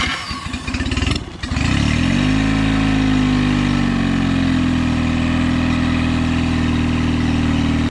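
An outboard boat engine fitted with a refitted carburetor sputters briefly, then catches and settles into a loud, steady close-up idle that keeps running without talk.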